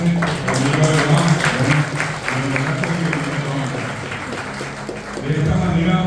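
An audience at a Guarani language and culture anniversary celebration applauds in a steady, fairly loud stretch of clapping, with a voice speaking over it at the start and end.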